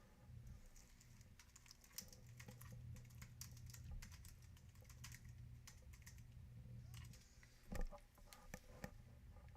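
Fingers tap quickly on a computer keyboard, a faint, irregular patter of clicks with a louder thump near the end, set against low background hum.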